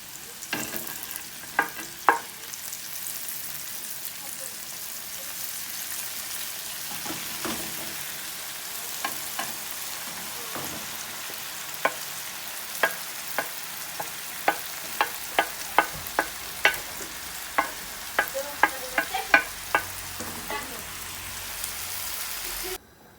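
Mushrooms and spinach sizzle and crackle steadily in a hot frying pan, with sharp clicks and scrapes of stirring scattered throughout, no voices.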